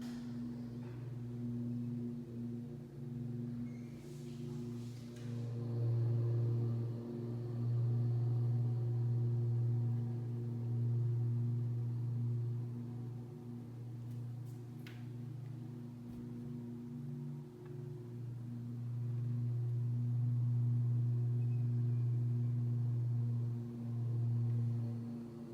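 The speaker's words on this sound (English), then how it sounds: "So that is the amount of noise you can hear from the lawnmower from the outside" A Ryobi RM480e lawnmower runs outside while heard from inside a house, a steady low muffled engine drone that swells and fades slightly as it moves, with faint indoor noises.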